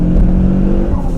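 A Fiat Punto GT's engine pulls hard in second gear, a loud, close, steady drone from inside the car with a sustained rising tone.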